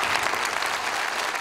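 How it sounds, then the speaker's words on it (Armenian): Audience applause at a live Arena Live stage show, a dense, steady wash of clapping from a sizable crowd that holds at full strength throughout, close and loud with no break. "Ծափարություններ։"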